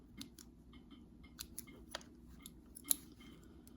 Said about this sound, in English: trim your little threads.